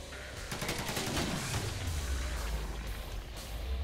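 Rockets firing and exploding in a video game: a loud, dense barrage of rapid blasts with rumbling booms that settle into a heavy low roar, with no talking.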